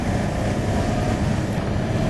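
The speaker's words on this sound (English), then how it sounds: "we'll run the engine for just a couple minutes" Cessna JT-A diesel aircraft engine running on the ground, heard as a loud, steady, rough broadband roar with a wind-like rush and no talk over it.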